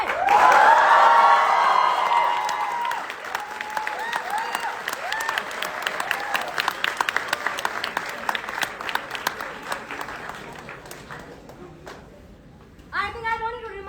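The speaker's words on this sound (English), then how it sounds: "Come on, make some noise, Bennet!" Applause and cheering from a crowd of university students at Bennett University, loud at first, then settling into steady clapping with shouts and whoops, with voices over it near the end.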